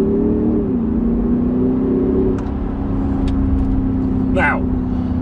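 A diesel car engine hums steadily from inside the cabin, its low drone shifting slightly in pitch as it accelerates, with faint road and wind noise throughout.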